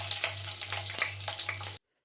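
Oil with curry leaves and green chillies sizzles in a pan, a close, crackling frying hiss with small pops, which stops abruptly just before the end.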